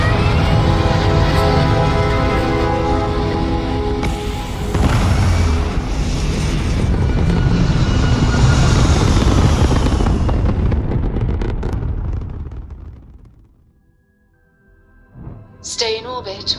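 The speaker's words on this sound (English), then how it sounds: "Thrust is firing." Spaceship thrusters firing in the video game Starfield, a loud, sustained roaring rumble that surges and holds before fading away to near silence, then a brief burst returns at the end.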